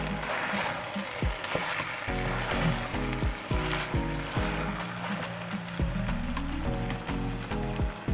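Rice frying in a pot makes a steady, dense sizzle, close and fairly loud, with rhythmic scraping stirs and clanks repeating throughout.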